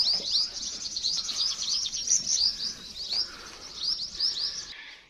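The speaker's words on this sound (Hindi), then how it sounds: "क्या क्या ज़बरदस्त आवाज़ें हैं परिंदे की यहाँ।" Birds chirping outdoors at a rest house, with quick high tweets and calls repeating close by over a quiet backdrop.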